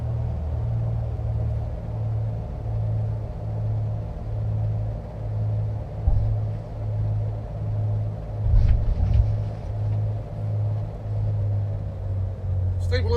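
Twin engines of a Carenado PA44 Seminole in a flight simulator drone and pulse steadily as the throttle comes back, a low throbbing rumble with brief thumps, under a voice.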